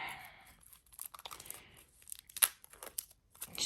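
Tarot deck packaging is cut and torn open, giving quiet, close crinkling and ripping plastic in short irregular bursts with small pauses between.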